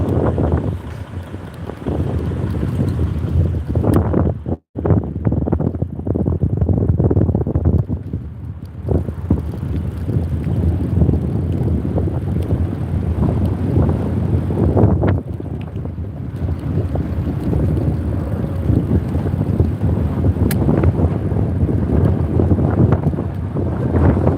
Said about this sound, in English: the wind's up